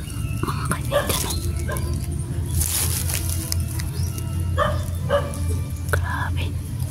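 A dog barks and whimpers in short, scattered bursts at moderate distance outdoors, while a person talks quietly in the foreground.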